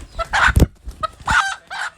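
Country hens cluck in short bursts, close by, with a sharper squawk mixed in and no talking.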